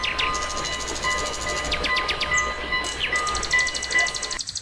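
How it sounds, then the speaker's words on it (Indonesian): Toy locomotive train running on its own with a steady mechanical hum and repeated high electronic chirping and whistle-like tones, close and continuous, no talk. "ternyata ada kereta api lokomotif."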